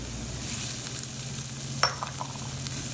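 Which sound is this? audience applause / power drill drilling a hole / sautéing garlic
sautéing garlic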